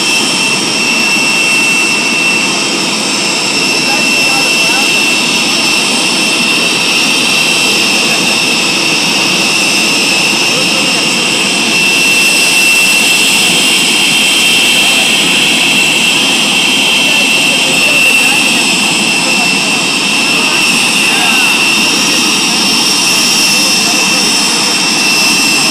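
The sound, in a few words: JT-8D jet engine running during engine test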